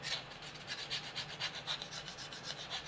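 The textured, anti-slip-like plastic underside of a 1/32 Roden L-19/O-1 Bird Dog model kit part is rubbed in a steady, rapid back-and-forth rasp, close and fairly quiet, with no talking.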